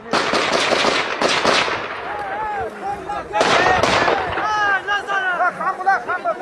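A Tommy gun fires sharp, rapid bursts amid wartime violence in Afghanistan. Two loud clusters of shots crackle close by, with raised voices calling out between and after them.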